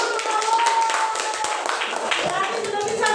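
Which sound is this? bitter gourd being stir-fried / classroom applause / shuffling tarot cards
classroom applause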